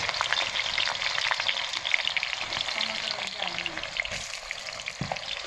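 Garlic and onion fry in hot oil in a kadai for bako curry, with a loud, dense, continuous sizzle and the occasional clink of a spoon stirring close by.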